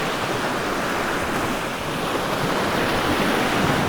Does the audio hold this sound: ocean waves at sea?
yes